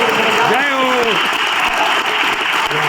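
A crowd applauds steadily throughout, a dense wash of clapping, at a public speech about building a temple in Freeganj, while a voice speaks briefly over it near the start.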